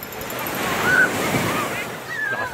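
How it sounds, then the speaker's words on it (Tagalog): Strong ocean waves crash and roar continuously with a broad rushing wash at Laiya public beach, San Juan, Batangas, mixed with wind buffeting the microphone. "Lakas ng alon."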